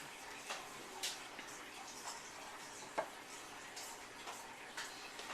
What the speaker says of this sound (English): Mix that in very well.